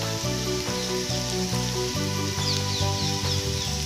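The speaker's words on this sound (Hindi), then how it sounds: "अब हम इसको अच्छे से फ्राई करके और इसकी स्टफिंग तैयार कर लेंगे।" Spiced mashed potato stuffing for aloo kachori fries in a pan with a continuous, dense sizzle, punctuated by regular scraping strokes as it is stirred, close and with no talk.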